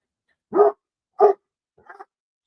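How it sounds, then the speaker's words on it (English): A Boston Terrier and a Basset Hound bark outdoors at a house with a big yard, giving two loud, close barks followed by a softer, shorter yip. "These are my parents' dogs. A a Boston Terrier, and a Basset Hound. Red, that's enough."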